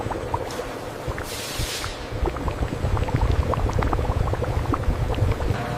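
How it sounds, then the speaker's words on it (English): A thickening paste of rice flour and water bubbles and pops in a pot over a low flame, with dense small plops and a brief hiss of steam, close and steady. "The mixture is transferred to a pot, where it's heated over low flame."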